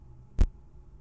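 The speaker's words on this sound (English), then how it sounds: "It's a person tapping." A single dull, soft thump from a person tapping in the game Buddy Simulator 1984, heard once alone against quiet background hum.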